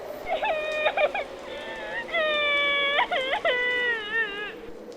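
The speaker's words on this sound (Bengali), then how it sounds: "আর তারপরে আবার আমার কানে ভেসে এলো সেই কান্নার শব্দ," Eerie crying in a ghost story, heard as a series of high wavering wails and sobbing glides, some short and broken, others drawn out, fairly clear against a quiet background.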